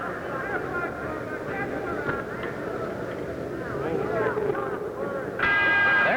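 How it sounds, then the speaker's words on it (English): A boxing round bell rings at Madison Square Garden, struck near the end and cutting through steady crowd noise while a commentator talks throughout. "There's the bell."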